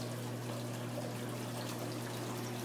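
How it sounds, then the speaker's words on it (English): Real water trickles and pours steadily in an indoor waterfall feature, a continuous close wash of splashing with a low hum underneath and no talk. "This is the waterfall every kid loved to get their grabby little mitts on."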